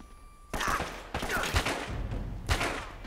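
Gunfire cracks out in the action game Uncharted: Drake's Fortune, three loud shot bursts about a second apart, each with a short echoing tail, and no talking.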